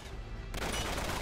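Gunfire in the Uncharted 3 London Underground level, a sudden loud burst of broadband crackle kicking in halfway through and continuing as dense sustained shooting.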